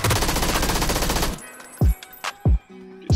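Rapid automatic gunfire in the PUBG video game rattles densely for over a second, then breaks into a few separate sharp shots with short silences between them.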